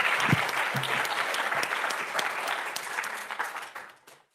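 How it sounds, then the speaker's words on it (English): An audience at a research paper conference session breaks into warm, sustained applause, loud and dense at first, then thinning out and fading away at the end. "Give her another warm round of applause"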